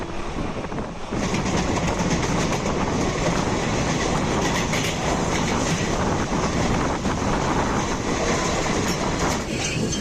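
The Howrah–Raxaul Express rumbles loudly and steadily along the rails, heard from on board, with rattling carriage noise and wind buffeting the microphone throughout.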